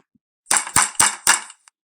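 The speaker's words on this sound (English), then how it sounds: "They knocked louder on the door." Four loud, sharp knocks on a door in quick steady rhythm, close and isolated against silence.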